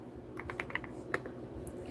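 Scattered keystrokes on a computer keyboard as names are typed out live, a handful of crisp, irregular clicks rising over a quiet room hum.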